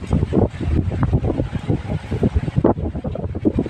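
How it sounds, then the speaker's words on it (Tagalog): Strong wind by the sea buffets the microphone in loud, uneven gusts and rumbling blasts, with the surf churning faintly beneath and no voices. "Malakas yung hangin."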